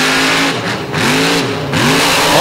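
A mega truck with rear steering at a monster truck show revs its engine loudly and close, the pitch climbing and dipping in two surging pulls with no voices.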